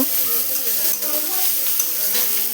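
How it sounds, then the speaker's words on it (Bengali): Chopped onions frying in two spoons of ghee in a kadai, a loud, close, steady sizzle with light stirring textures throughout and no voices. "2 চামচ ঘি দিয়ে আমি ভালো করে আবারও কিছুটা পেঁয়াজ কুচি দিয়ে ভালো করে গোল্ডেন ব্রাউন করে আমি"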